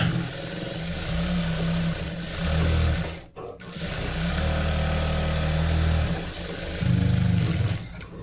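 A sewing machine runs in steady bursts while stitching a blouse, its close motor whir broken by a short pause around the middle and then resuming.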